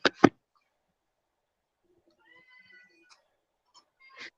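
A pet cat gives faint, thin meows in a quiet room, following two sharp knocks at the start, with soft scattered noises in between.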